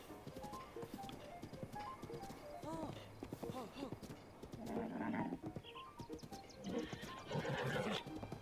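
In Zelda: Breath of the Wild, a horse gives a whinny together with clip-clopping hooves. Bursts of other game sounds follow, and a murmur of voices runs underneath.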